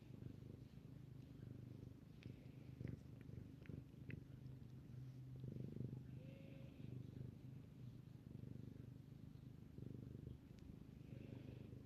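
A cat purrs softly and steadily up close, a low continuous rumble with faint background sounds and no talking.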